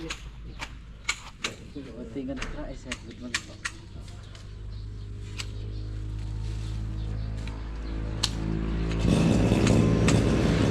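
A grass cutter trims plants in a yard. Its motor drones in the background with scattered sharp clicks, then swells louder and closer near the end, with voices around it.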